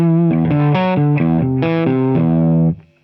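Heavily distorted electric guitar plays the intro riff of a song through a pedalboard effects chain: loud, close, stepping chord-like notes with no voices, cutting off sharply near the end.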